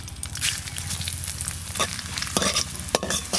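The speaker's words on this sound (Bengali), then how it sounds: "এই তেলের মধ্যে আমি জিরে আর তেজপাতা ভেজে তুলে রাখি।" Cumin seeds and bay leaves fry in hot oil in a pan, a close crackling sizzle broken by sharp scraping strokes of a spatula that grow busier toward the end, with nobody speaking.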